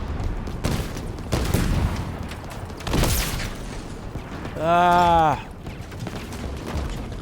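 Video game gunfire in sharp bursts and single shots, loud and close, mixed with mechanical clanks and a brief tonal whine, while a voice briefly exclaims.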